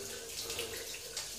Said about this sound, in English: I usually have a little bit of water running